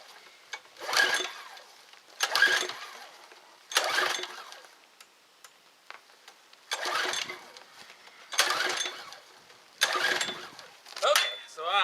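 A pressure washer engine with its choke set is pull-cranked about eight times in a steady rhythm. Each pull gives a short whirring, rattling burst that dies away without the engine catching, heard close and fairly loud.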